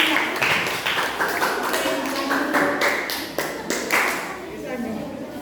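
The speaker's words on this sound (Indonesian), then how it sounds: "tepuk tangan untuk semuanya" Students clapping together in a classroom lesson, a short burst of scattered hand claps with uneven rhythm, mixed with voices talking over them.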